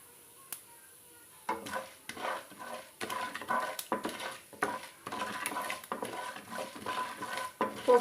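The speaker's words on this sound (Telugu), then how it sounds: "ఇలా మంచిగా ఫ్రై చేసుకోవాలి." Urad dal and tempering spices frying in a pan for an old-style pachadi, with repeated scraping and clinking stirs of a spoon against the metal, steady and close, no talking.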